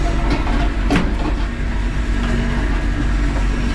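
A first-class Sri Lankan passenger train running along the tracks, heard from onboard as a loud, steady rumble with rhythmic rattling and a sharp clank near the start, no voices.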